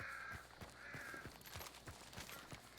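Several crows caw in harsh, repeated calls at moderate distance in the video game Hunt, mixed with scattered clicks and thumps in the background.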